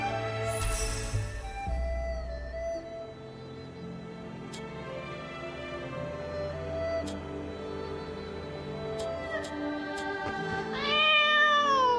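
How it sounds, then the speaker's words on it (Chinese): A small cat meows in the Moonlight Blade Mobile role-playing game, its cries rising clearly at the start and again near the end over a soft, sustained game music background. "这里竟然有只小猫"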